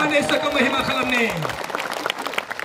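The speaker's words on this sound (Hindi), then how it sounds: "ताली बजाकर धन्यवाद करें प्रभु का।" A congregation at a church service breaks into clapping that grows into scattered applause, while a preacher's voice carries over the start of it.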